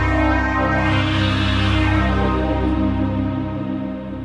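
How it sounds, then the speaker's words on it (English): A Roland D-50 synthesizer patch played with resonance turned to maximum: a sustained, buzzy chord with a bright, whistling, resonant edge holds steady and loud, then tapers slightly at the end. "So what you're hearing is max resonance on the D-50"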